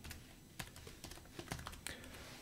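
Fast, uneven clatter of keys on a computer keyboard as an email address is entered, close and crisp with a few sharper keystrokes standing out, no talking.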